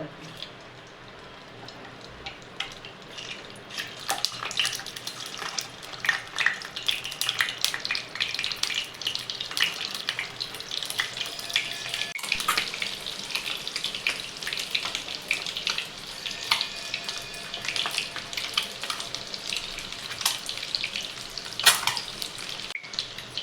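Eggs fry in oil in a pan with a bright, continuous crackling sizzle that swells after a quieter start and holds for over twenty seconds, with occasional stirring clicks.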